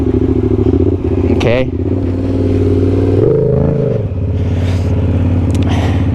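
A motorcycle engine idles low and steady during a stand-up circle wheelie, its rumble running throughout with a brief dip and rise, while a rider speaks a short word over it.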